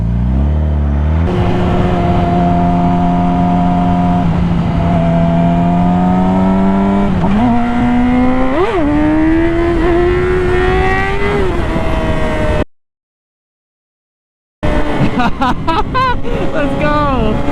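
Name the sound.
sportbike motorcycle accelerating during a ride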